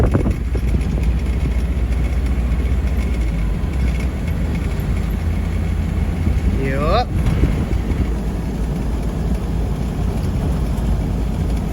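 A 1993 Chevy G20 van with a 5.7 engine drones steadily at highway speed, with road and wind noise throughout and a brief squeak partway in.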